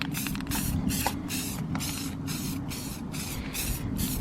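Repeated bursts of aerosol spray paint hiss in quick succession as a pickup truck is painted, each short blast loud and close with brief pauses between.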